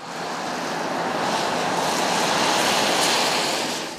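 Waves and gusting wind at the marina in Bradenton ahead of an expected storm surge, a steady broad roar of surf and wind buffeting the microphone, loud and constant throughout with no talking.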